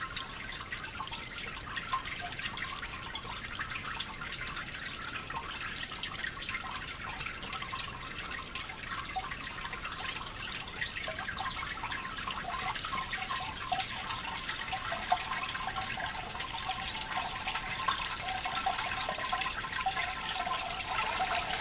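A bell siphon kicks on and drains water from an aquaponics grow bed, producing a steady rushing, gurgling flow that holds for the whole stretch and grows slightly louder toward the end.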